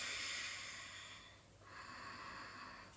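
Slow, audible breathing during a dynamic yoga flow, a sustained breathy exhale fading into a brief pause before the next breath, close and soft with no talking.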